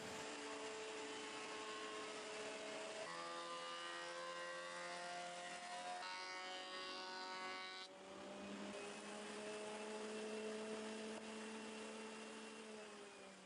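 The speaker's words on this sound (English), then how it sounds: "I brought those pieces over to the planer where I'll bring them down close to the final thickness" A thickness planer feeds solid maple boards for a workbench top, its steady loud motor drone carrying a shifting cutting whine that changes pitch as each board passes through, continuous with no talking.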